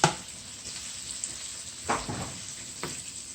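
Tomato goes into a hot pan for stewed tilapia and sizzles softly, with a couple of brief scraping stirs.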